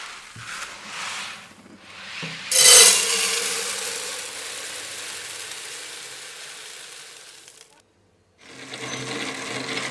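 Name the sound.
hand-cranked grain mill milling malt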